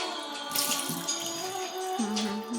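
Water poured while washing makes short splashing and trickling bursts, close and moderately loud, with some tonal ringing mixed in.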